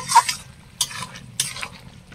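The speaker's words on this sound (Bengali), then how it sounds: "দেখুন কষে আমি সামান্য একটু জল দিয়ে দিয়েছি সেদ্ধ হওয়ার জন্য।" Chicken simmers with a little water in a pan while it is stirred; three short scraping stir strokes sound up close over a low background bubble.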